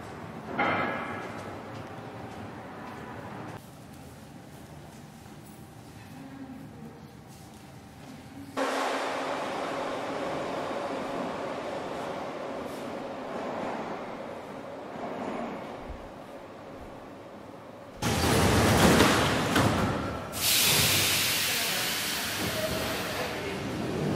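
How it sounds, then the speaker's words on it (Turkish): Rumbling train noise echoes through an underground metro station in Tashkent, Uzbekistan, growing louder in stages, ending with a loud rushing hiss as a train passes close by. "Burası anlayacağınız üzere kozmonotların olduğu metro durağı."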